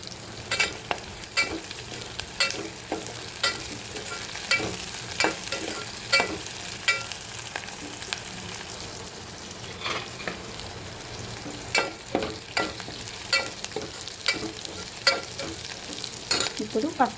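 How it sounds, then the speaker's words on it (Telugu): Onions and curry leaves frying in a pan for a traditional Telugu greens dal, a steady sizzle broken by regular scraping spatula strokes throughout, close and without speech. "ఉల్లిగడ్డ కాస్త వేగిన తర్వాత కరివేపాకు వేయాలి."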